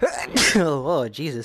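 A sharp sneeze bursts out, followed by a startled voice speaking nearby.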